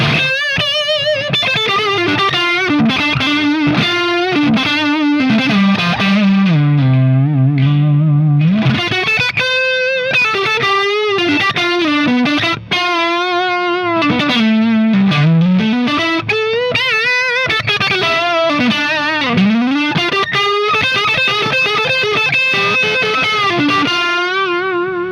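Electric guitar through a SonicTone Mercenary Mark I high-gain tube amp on its crunch channel, played as a continuous distorted solo with bends and sustained notes, loud and close, with no talking.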